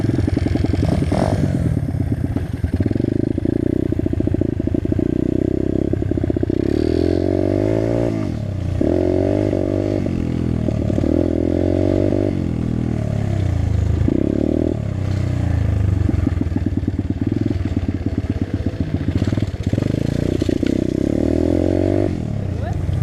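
A dirt bike engine runs continuously and revs up and down repeatedly after its fuel line had come off, with people talking nearby over the engine.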